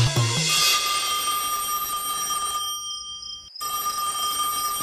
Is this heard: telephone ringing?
yes